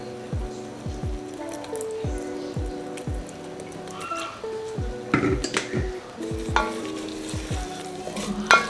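Oyster chowder with crushed red pepper and Worcestershire sauce is stirred in a pot, a spoon knocking the sides in a steady series of taps over a soft wet simmer, closer, louder scraping toward the end.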